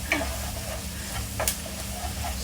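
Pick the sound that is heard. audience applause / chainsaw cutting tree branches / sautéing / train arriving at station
sautéing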